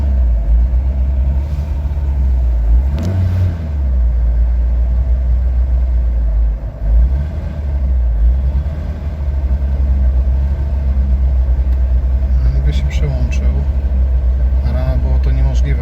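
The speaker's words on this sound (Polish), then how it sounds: "No widać, obroty siadły i zdechły." A Polonez Caro engine running on petrol after a switch from LPG, a steady low rumble from close by whose revs sag and die away, with a voice talking over it.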